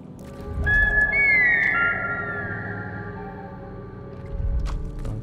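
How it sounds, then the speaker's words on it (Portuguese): A small creature in the video game Jusant gives a few clear, high, sliding whistles, close and prominent over a soft ambient bed, with faint clopping thuds underneath. "O bichinho fica assobiando pra você"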